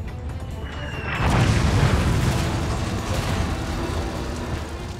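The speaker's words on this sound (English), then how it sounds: "thunderstorm of Marine artillery and mortars pound Sugarloaf, driving the defenders back underground" Marine artillery and mortar fire pounds Sugarloaf Hill on Okinawa, arriving as a sudden heavy boom about a second in that swells into a sustained, rumbling roar of continuous bombardment.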